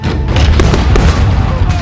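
Small cannons fire in a loud volley of booms and cracks during a shinobi ambush in feudal Japan, with several sharp blasts over dense rumbling.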